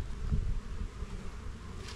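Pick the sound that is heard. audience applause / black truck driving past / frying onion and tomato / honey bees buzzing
honey bees buzzing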